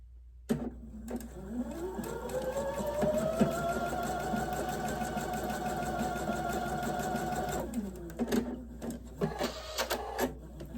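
A sewing machine stitches quilt star blocks, running at a steady, buzzing pace for about seven seconds. It starts and stops abruptly, and a few clicks of handling follow.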